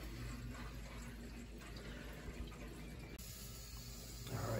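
Water running steadily as an automatic feeder refills a Burnham Independence steam boiler that had flooded, a faint, continuous rushing fill that holds steady throughout.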